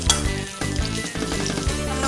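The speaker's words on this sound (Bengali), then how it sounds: "তেলের মধ্যে নুন হলুদ মাখিয়ে ভেজে নিচ্ছি" Peeled pointed gourd fries in hot oil with salt and turmeric, giving a steady close sizzle with faint clinks and a droning tonal hum underneath.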